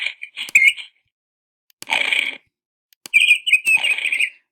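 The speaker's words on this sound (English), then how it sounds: "You can hear the bird smacking its lips." In an evolution simulation game, a bird makes clicking, smacking sounds in three short bursts with brief silences between them, each burst a quick run of sharp clicks and chirpy squeaks.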